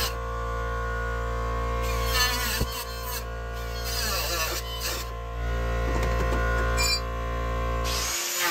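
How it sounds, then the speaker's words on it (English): Wire wheel on a power tool scrubbing metal on a 1966 Triumph GT6 body, a loud steady whine and buzz with harsh grinding surges, running close and continuously until it stops at the end. "I'll try with the wire wheel"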